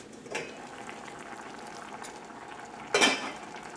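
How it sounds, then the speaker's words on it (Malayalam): Curry boiling in a covered pot, a low steady bubbling simmer punctuated by two clattering knocks of a lid or utensil, near and moderately quiet, without speech. "നമ്മുടെ കറി നന്നായിട്ട് തിളച്ചിട്ടുണ്ട്."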